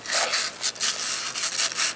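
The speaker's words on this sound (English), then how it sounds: "you're scraping it off the wheel" Plasti Dip coating being scraped off a Miata car wheel, a loud, close, continuous rasping scrape in quick repeated strokes with short pauses between them.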